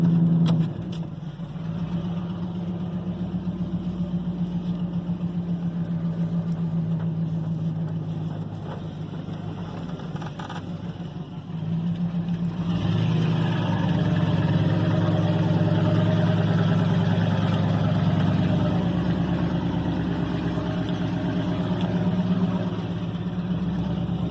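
A 1993 Ford F-150 pickup on its first drive after an 8-lug swap, a steady engine drone heard from inside the cab, easing briefly then rising louder as it pulls away, with no talking.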